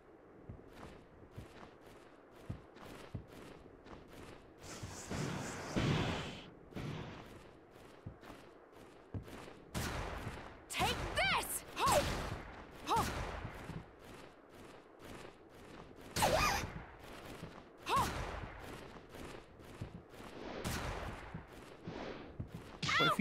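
Gunfire from a gun in Bloodstained: Ritual of the Night, a string of sharp shots and impacts scattered irregularly over the whole stretch amid other game sounds, with no talking.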